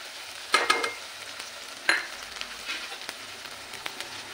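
Spices and chole masala stirred in hot oil with turmeric and red chilli powder for chole, a soft sizzle under a few quick scraping stirs, quiet and close.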